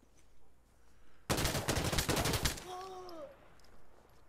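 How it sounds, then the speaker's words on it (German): A burst of rapid automatic gunfire in the shooter game Insurgency, loud and close for about a second, then fading into faint whistling tones and quiet background. "Ich habe drei Schüsse verschossen."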